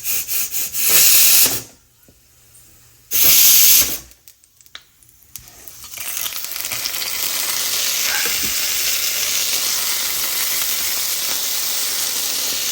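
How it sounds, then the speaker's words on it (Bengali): Sweet potatoes fry in a little peanut oil, with loud hissing bursts broken by brief quiet gaps early on, then settling into a steady, close sizzle that runs to the end. "একদম সামান্য তেলে এই সব আলুগুলো ভাজা হয়ে যাবে"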